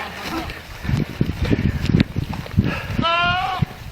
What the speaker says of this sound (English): Is it goat?